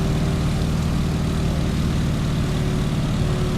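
Boeing PT-17 Stearman biplane's propeller engine droning steadily at cruise throttle, about 85% power with the prop pulled back to 1900 RPM, a loud, even, close drone with no talk.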